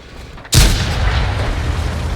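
One sudden heavy boom from artillery fire in a tank battle video game, loud and close, followed by a long rumbling decay with no voices.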